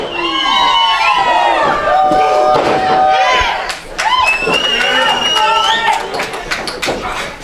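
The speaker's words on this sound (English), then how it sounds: "this crowd is loving it here at the FGW Arena" A packed crowd at the FGW Arena wrestling show cheers and shouts loudly and continuously, with a brief dip before the roar swells again, while a commentator talks over it.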